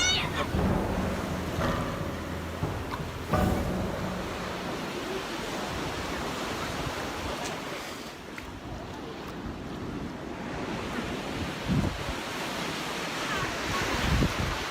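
Broad wind-blown surf washes steadily at a beach, with gusty rumble on the microphone and brief voices now and then.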